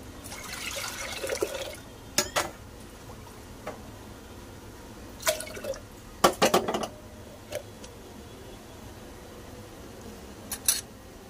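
Water is poured into dal with turmeric in a pressure cooker: a short splashing pour at the start, then scattered metallic clinks and taps of utensils against the pot in a quiet kitchen.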